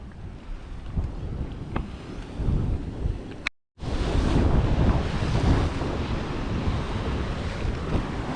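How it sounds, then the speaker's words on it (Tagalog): Big ocean waves crash and roar on a windy shore at Liloy, with strong gusts buffeting the microphone and a brief dropout partway through. "dagko kayong balod, especially kung mahangin siya"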